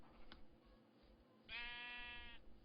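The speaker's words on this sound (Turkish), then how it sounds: "O kadar çok koyun var ki." Sheep bleating in the video game Minecraft: one drawn-out, wavering bleat of almost a second, heard over a faint background hum, with a short click just before.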